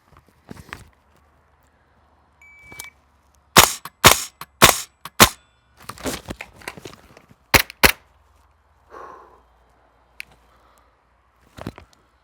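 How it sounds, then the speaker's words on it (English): BB pistol being reloaded by hand, with a series of sharp, close mechanical clicks and snaps in irregular bursts, separated by brief shuffles and quiet gaps. "Another repetition for a tactical reload."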